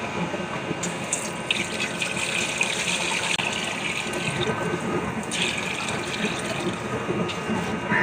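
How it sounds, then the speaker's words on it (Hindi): Water runs and splashes into a pressure cooker in a home kitchen, a steady close gushing and trickling stream throughout. "पानी डाल दिया है जी हमने प्रेशर कुकर में।"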